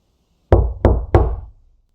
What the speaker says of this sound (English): from the bottom of the door, rang out 3 hard knocks